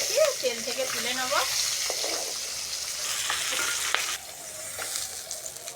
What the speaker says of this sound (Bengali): মাথা দুটো ভালো করে ভেজে নিয়েছি, তেল থেকে তুলে নেব